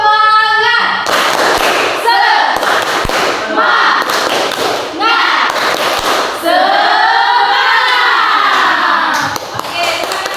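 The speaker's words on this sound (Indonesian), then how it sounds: "Tepuk semangat." Classroom of twelfth-grade students doing a rhythmic spirit clap, sharp clustered hand claps in bursts mixed with loud chanting voices and crowd noise, repeated several times over about ten seconds.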